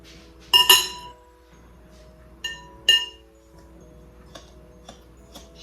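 A few bright clinks of a whisk against a bowl, a sharp pair at first and then lighter taps, close up in a quiet kitchen while making vegan chocolate chip cookies.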